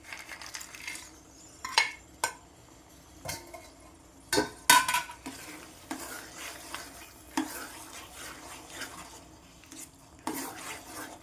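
Bread halwa with fried dry fruits stirred in a pan: scraping spoon strokes and clinks against the metal come in irregular bursts over a faint sizzle.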